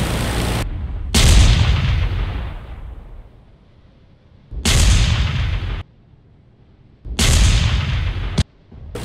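Heavy gunfire and booming flak bursts in a WWI air combat game, with an Albatros D.Va fighting an S.E.5a; three loud, close blasts each trail off in a rumbling decay, separated by quieter stretches of engine drone.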